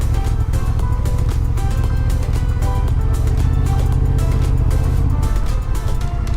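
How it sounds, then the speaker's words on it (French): A car approaches from the right near a group of motorcyclists, a steady, loud rumble of engine and road noise filling the scene without pause. "il y a une voiture qui arrive là sur la droite"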